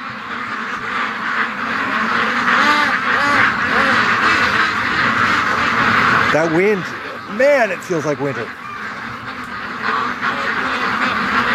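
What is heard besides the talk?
ducks quacking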